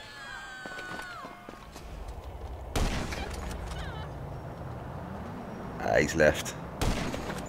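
In a video game, a player's gunshots ring out in a few sharp, loud bangs spread across the moment, with someone talking briefly between them.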